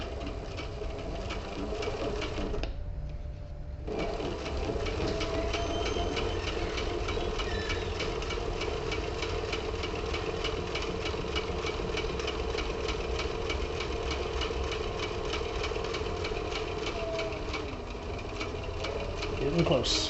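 A sewing machine stitches a leather tablet case in a long continuous whirring run with a short pause early on, loud and close, while a person talks over parts of it.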